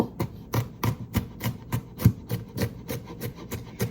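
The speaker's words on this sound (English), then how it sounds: "It's really easy to chop up the garlic with this knife." Garlic being chopped with a Nakiri knife on a board gives a steady rhythm of about fifteen crisp, close knocks, each blade strike clear and evenly spaced.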